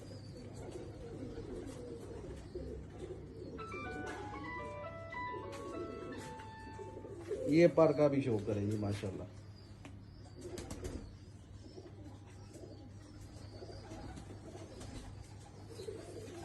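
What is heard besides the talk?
pigeons cooing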